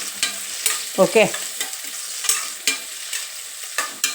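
Chopped onions fry in a pan for a spinach rice lunch-box dish, giving a soft continuous sizzle broken by a few brief stirring scrapes and clatters, close and moderately loud, with one short spoken word.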